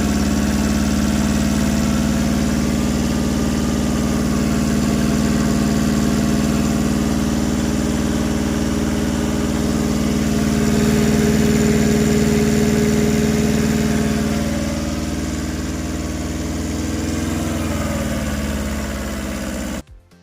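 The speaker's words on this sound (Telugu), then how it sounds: "ఇంజిన్ సౌండ్ చెక్ చేసుకోండి. ఒకసారి మీకు సౌండ్ వినిపిస్తాను చూడండి." The engine of a 2013 Tata Magic van idles steadily for about twenty seconds, a close, even, low rumble with a slight rise partway through, then cuts off abruptly at the end.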